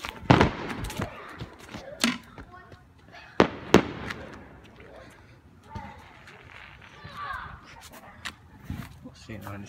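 Firework explosions crack and pop at irregular intervals, some loud and close, while people chatter in the background between bursts.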